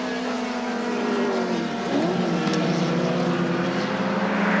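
Touring race car passing its pit during the 1981 Surfers Paradise 300, a continuous engine drone with a pitch sweep as it goes by, heard from a distance over steady circuit noise.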